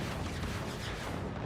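Several 20 millimeter cannons firing together in the strategy game Forts, a dense, continuous barrage of punchy blasts merging into one loud, sustained roar.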